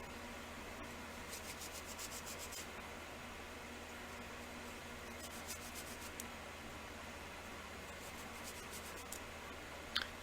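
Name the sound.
wiping down polymer clay cylinder beads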